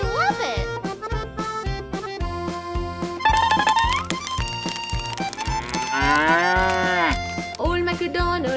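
Cow moos rise and fall in a bouncy Old MacDonald nursery rhyme, repeated over a bright, plucky musical backing with a steady beat.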